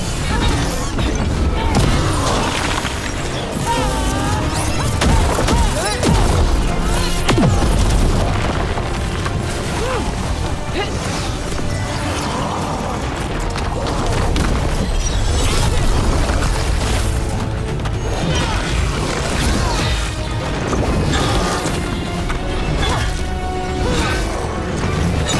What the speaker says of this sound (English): The bombs are not helping.